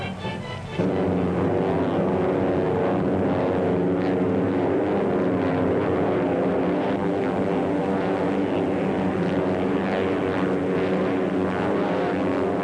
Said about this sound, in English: We should be landing shortly, Baron.